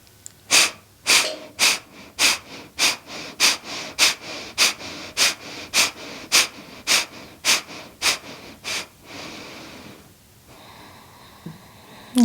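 Rhythmic breathing during a yoga abdominal-strengthening exercise, around twenty sharp, forceful exhales at a steady quick pace, close and loud, then a pause and quieter ambient sound with no talking.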